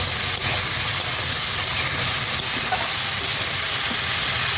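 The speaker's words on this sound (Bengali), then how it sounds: "আদা বাটা দিয়ে আমি ফুলকপি আলু আর সিমটাকে ভালো করে কষিয়ে নেব" Cauliflower, potato and flat beans sauté with ginger paste in a pan, making a loud, steady, close hiss of frying that holds evenly throughout with no talk.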